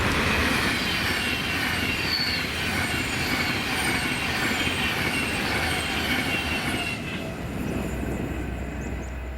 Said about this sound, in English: this is 1M15, the 1459 Avanti West Coast service to London Euston from Glasgow Central with